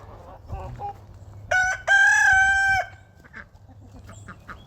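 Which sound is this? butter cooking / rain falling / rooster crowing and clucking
rooster crowing and clucking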